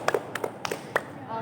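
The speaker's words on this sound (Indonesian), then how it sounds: "Tepuk tangan dong buat Kak Linda." A handful of sparse, separate claps from a small audience at a Buddhist Dhamma sharing session, only about six distinct hand strikes spaced irregularly over a quiet room, fairly faint, with a voice murmuring at the end.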